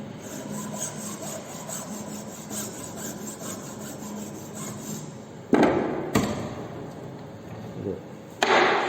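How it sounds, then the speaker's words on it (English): Flat file rasping steadily across the end grain of a wooden mortise in a carpentry shop, a run of even back-and-forth strokes followed by a few sharper knocks and scrapes near the end. "So we are using flat file for finishing the ends of the mortise."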